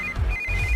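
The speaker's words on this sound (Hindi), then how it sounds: "इस वक्त दीदी का फोन।" A phone rings with a steady electronic tone, loud and close, repeating briefly with no voices, in a Hindi-dubbed movie.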